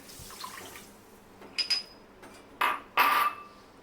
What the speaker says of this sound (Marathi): एक कप साखर घेतलं तर त्याच्यासाठी आपण तीन कप पाणी टाकायचं आहे